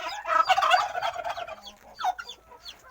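Farm chickens give a short flurry of close clucks and squawks, loud at first and then thinning into scattered calls.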